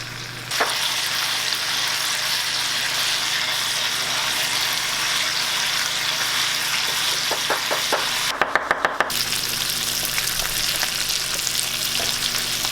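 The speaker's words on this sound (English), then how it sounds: "Pan frying." Steady, loud sizzling of vegan steak frying in a skillet, continuing throughout with a few light clinks and a brief clatter of a utensil partway through.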